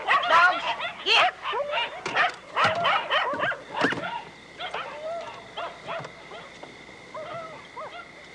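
Several dogs bark and yip excitedly, close by, in rapid overlapping bursts that thin out into scattered whimpering yelps, with a voice briefly mixed in among the barking.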